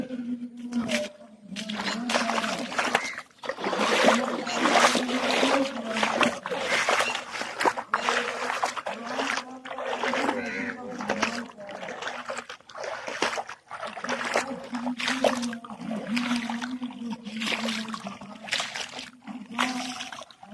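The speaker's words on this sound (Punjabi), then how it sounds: "ਇਹ ਪਾਣੀ ਆਂਦਾ ਪਿਆ ਜੀ" Water flowing steadily into a field channel at dawn, a continuous splashing, gurgling rush that stays fairly loud throughout without talk.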